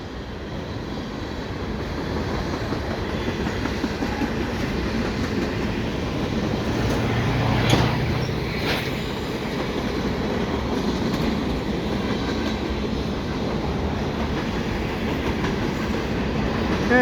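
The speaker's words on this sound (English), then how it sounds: "And the end of the train seems to be coming." A CN mixed freight train rolls steadily past at St John's Blvd on a mild late-October day, a continuous loud rumble and wheel clatter lasting throughout with a brief swell midway.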